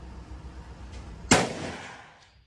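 A single sharp rifle shot fired with Greek ammunition at a riverside gun club, a loud crack with a decaying tail, heard alone over faint background.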